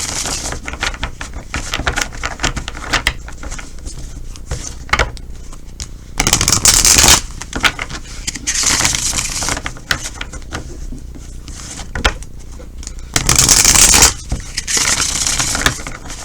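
A tarot deck is shuffled close up, with rapid papery riffles and flicks punctuated by two louder bursts of cards cascading together, and quieter handling and tapping between them.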